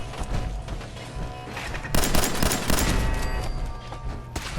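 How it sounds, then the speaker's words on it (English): Gunfire in the video game Fallout 4, a burst of overlapping shots and booms with a loud cluster midway, rolling on as a dense barrage without talk. "You're probably hearing the gunshots."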